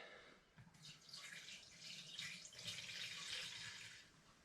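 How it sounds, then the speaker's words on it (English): Spirit being poured gently through a carbon filter for homemade whiskey, a soft continuous trickling and splashing stream that swells and then tapers off, quiet and close. "So I'm just going to pour the spirit through there and let's see what happens."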